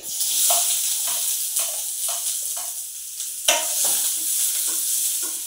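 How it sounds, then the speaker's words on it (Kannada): Chopped onion fries in oil in a pan with a steady, close sizzle, broken by regular scraping stirs about every half second. "ಈರುಳ್ಳಿ ಫ್ರೈ ಆಯ್ತು"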